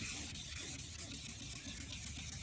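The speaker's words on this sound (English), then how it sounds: "I like to go back and just clean it up with my hand" Headlight lens hand-sanded with sandpaper using long back-and-forth strokes, a steady close scratchy rasp running continuously without pause.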